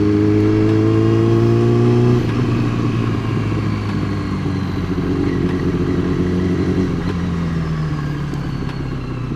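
Motorcycle engine riding in traffic, revving loudly then dropping to a lower rumble after a gear change, steady and close with traffic clatter around it.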